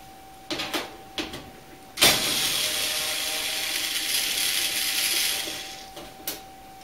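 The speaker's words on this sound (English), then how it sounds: "this cordless screwdriver just keeps on going and going and going" Cordless screwdriver working on parts of an old Roper clothes dryer: a few short motor bursts, then one sustained whirring run of several seconds that trails off, followed by another brief burst, close and fairly quiet.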